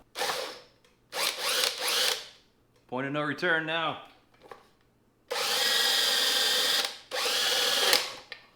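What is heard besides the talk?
drilling plastic with a hole saw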